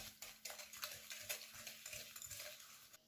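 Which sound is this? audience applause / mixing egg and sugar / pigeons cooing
mixing egg and sugar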